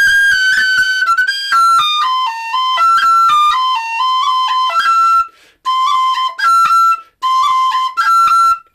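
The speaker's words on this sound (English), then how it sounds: "instead of doing the long roll on the E, you can do a short roll, so it sound like this." Irish flute or whistle playing a phrase of the Donnybrook Fair tune with a short roll on the E, bright, close and clear, melodic with brief breath gaps.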